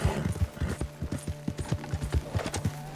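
Horse hooves clip-clop in the video game Red Dead Online, a brisk, even run of close hoofbeats continuing for the whole stretch, with no talking.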